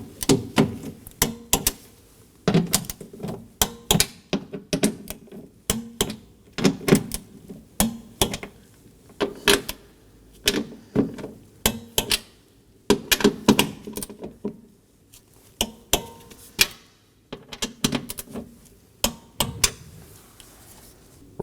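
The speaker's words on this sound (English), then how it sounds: "We're going to torque these down to 71 inch-pounds." A torque wrench gives repeated ratcheting clicks in short bursts with brief pauses while tightening bolts on a Toyota Corolla's front window regulator, a steady mechanical clicking close by, with no talking.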